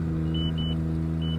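A Haulotte 45XA boom lift rotating its tires, a steady low engine hum with tonal drone, overlaid by three short high-pitched beeps from the machine, close and continuous.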